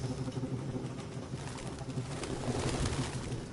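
Pigeons coo steadily in an abandoned building in the video game Detroit: Become Human, a dense layer of low repeating calls with some rustling, loud and close, with no talking.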